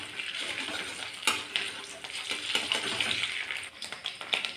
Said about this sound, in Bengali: তেলটা গরম হয়ে গেছে। এর মধ্যে এবার আমি আদা কুচিটা দিয়ে দিলাম